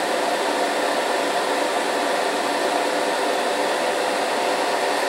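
A hobby paint spray booth's extractor fan runs continuously, a loud, even whooshing roar with no change throughout.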